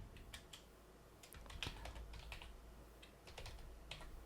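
Keys tapped on a computer keyboard while entering JavaScript code, heard as faint, scattered clicks in short irregular bursts against a quiet room background.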